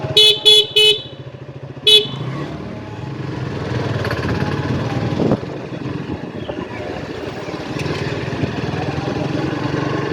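A Suzuki Gixxer motorcycle riding along village roads, several short horn honks at the start, then a steady engine drone close by for the rest of the ride.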